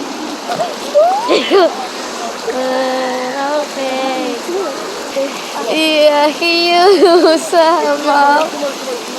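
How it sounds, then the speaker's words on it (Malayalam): People splash in the water of a quarry pool in Kerala; steady splashing and rushing water mixed with close voices calling and singing. "ഞങ്ങൾ വെള്ളത്തിൽ ഇറങ്ങി"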